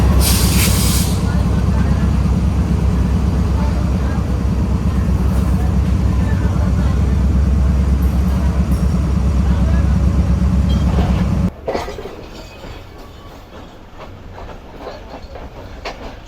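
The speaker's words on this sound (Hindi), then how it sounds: "फाइनली ट्रेन हमारे निकल रही है रोडी जंक्शन रेलवे स्टेशन से" The Shalimar Express pulls out of Rohri Junction behind its locomotive: a loud, steady rumble of wheels and carriages rolls on for several seconds, then drops suddenly to a quieter rattling clatter, and someone talks under it.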